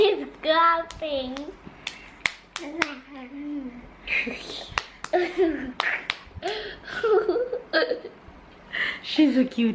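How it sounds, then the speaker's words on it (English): A baby girl claps her tiny hands, producing a few sharp, close, irregular smacks scattered between adults' cooing speech and a child's babble. "She's clapping."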